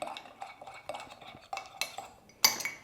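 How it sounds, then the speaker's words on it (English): A spoon stirring matcha powder with a splash of liquid into a thick, sludgy green paste in a cup, giving a run of soft scraping strokes and light clinks against the sides, with a brighter clink near the end. "we're just going to give it all a bit of a mix"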